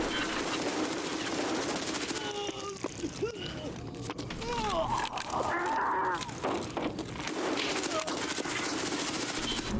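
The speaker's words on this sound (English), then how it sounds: "there was a player with top tier gear just shooting at us" Gunfire in the video game Escape from Tarkov comes as dense bursts of shots over a busy mix of game sound, with voice chat and a speaker talking through parts of it.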